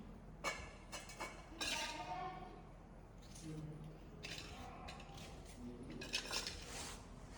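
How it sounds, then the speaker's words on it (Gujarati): A knife cuts through a tomato for a rice dish, giving a few sharp clicks and taps against a board and dish, with a voice talking intermittently over the kitchen sounds. "તો આવી રીતે આપણો ટમેટો કપાય છે"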